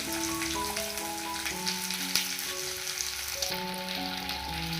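Half an onion sautéing in a pan with salt for Kerala-style cherupayar mezhukkupuratti, giving a steady close sizzle and crackle throughout, with soft tonal music running underneath.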